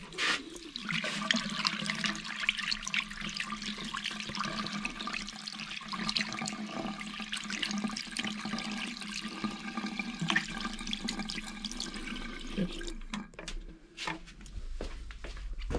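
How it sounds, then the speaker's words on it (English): Running tap water rinsing cleaned parts from an abandoned German SABO lawnmower, a continuous close splashing and gushing that shifts as parts move under the stream, fading near the end. "We're gonna rinse that off with some fresh water"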